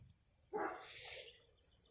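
A single sharp dog bark rings out from somewhere beyond a backyard garden, moderately distant and trailing off into quiet outdoor air.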